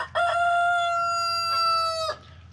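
A rooster from a backyard flock crows once, a loud, close, sustained cock-a-doodle-doo lasting about two seconds, with nothing else audible.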